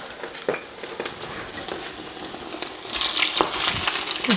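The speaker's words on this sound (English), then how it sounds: "I'm adding the bread to the frying pan now, because that's gone really smoky hot." Bread frying in a smoky hot pan gives a crackling sizzle that swells louder toward the end, dotted with sharp clinks and scrapes, with no talking.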